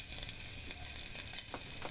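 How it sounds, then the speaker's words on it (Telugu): Garlic fries in three or four tablespoons of hot oil, making a faint, continuous hiss with light crackles throughout. "ఎల్లుల్లిపాయలు వేసి కొంచెం వేగాలి."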